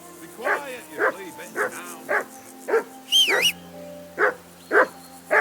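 A dog in the medieval game Kingdom Come Deliverance 2 barks repeatedly in a regular, insistent rhythm, loud and close, with a brief high whistling tone cutting in midway before the barking resumes.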